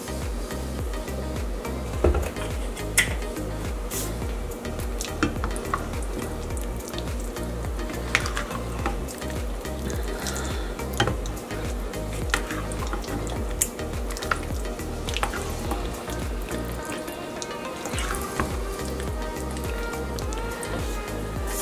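Pizza sauce simmering on low in a pan gives a soft, continuous bubbling sizzle with scattered pops and occasional stirring clicks, fairly close and steady throughout.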